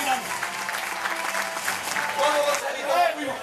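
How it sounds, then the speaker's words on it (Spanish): Applause from the crowd at a horse auction, steady clapping that runs the whole stretch with a voice talking over it from an announcer's microphone. "Un aplauso muy grande."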